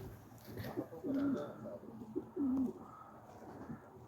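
Finnish breed pigeons coo softly nearby, with a couple of low, rolling calls standing out over a quiet background.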